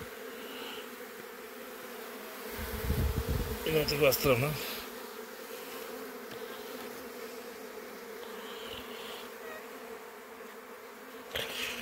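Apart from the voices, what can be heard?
honey bees swarming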